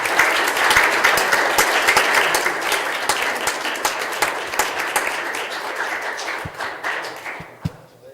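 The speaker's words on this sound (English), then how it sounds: "Let's have a round of applause." Applause from a crowd at a township trustees meeting, a dense, steady wash of many hands clapping that gradually thins and fades over several seconds, with a few louder claps standing out near the end.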